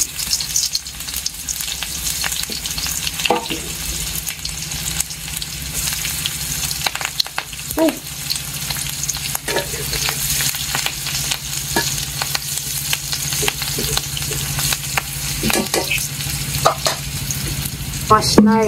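Onions fry in oil in a pan with a constant loud sizzle, while repeated stirring and scraping strokes run through the whole stretch and occasional voices can be heard beneath.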